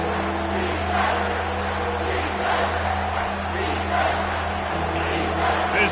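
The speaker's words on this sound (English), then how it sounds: "This crowd rising up, sensing that its defense needs some help." Football stadium crowd during an Ohio State versus Penn State game, a broad continuous roar rising and swelling from a distance with no distinct voices standing out.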